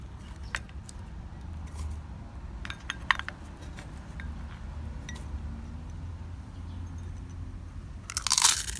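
Food scraps are dropped into a glass composting jar, making scattered crunches and soft clinks against a quiet background, ending in a louder rustling clatter.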